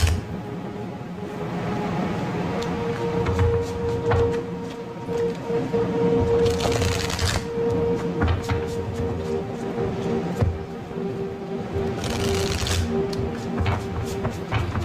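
Bursts of rapid papery riffling of tarot cards being shuffled come in two short runs over a steady low hum with quiet room noise in between.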